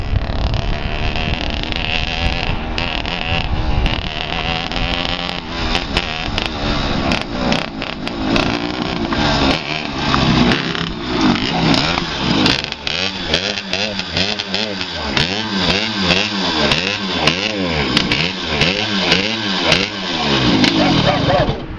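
A racing kart engine running rough and misfiring, its buzzing drone stuttering and wavering in pitch, loud and close, with a voice speaking over it.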